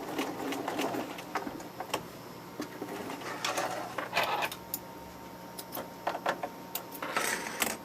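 Sewing machine back stitching through leather for a sunglass case, a soft, steady mechanical whir with small ticking bursts as the stitch reverses, moderately quiet and close, no voices.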